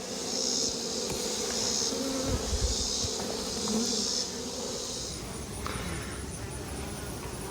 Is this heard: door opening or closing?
no